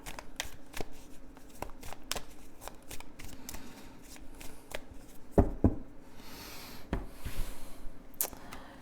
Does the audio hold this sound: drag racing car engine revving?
no